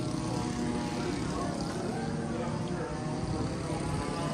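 Steady propeller-engine drone of B-17 bomber aircraft flying over a bomber field air show, loud and continuous throughout, with crowd voices mixed faintly underneath.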